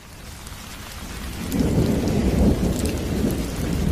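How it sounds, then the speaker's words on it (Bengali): Heavy thunderstorm cartoon sound effect for a stormy Bengali ghost-story night: dense rain and rolling thunder swell sharply around the midpoint into a loud, continuous roar, with no voices. "আর ঠিক তখনই বাইরে প্রচণ্ড ঝড় বৃষ্টি শুরু হয়।"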